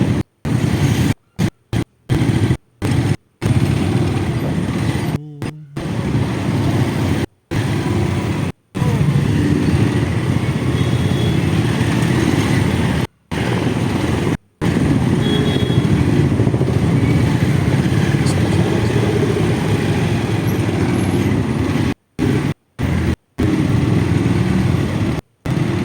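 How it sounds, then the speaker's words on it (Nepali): A motorbike engine runs steadily, loud and close, as a continuous throaty drone broken by several abrupt cutouts. "मेरो बाइक हुतुत गरिरहेको छ"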